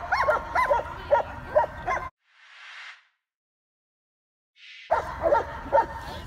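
Big dogs, including a White Swiss Shepherd, bark in several loud close bursts at a dog training centre in Sokolniki, with a quiet gap in the middle.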